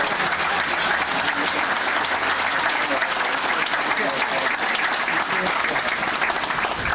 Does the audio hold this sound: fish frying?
no